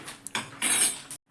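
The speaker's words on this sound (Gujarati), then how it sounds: "સરખી રીતે હલાવી નાખીએ" A spoon scrapes and clinks against a cooking pot while stirring a homemade tomato sauce with salt, in a run of close, irregular metallic scrapes and taps that ends abruptly.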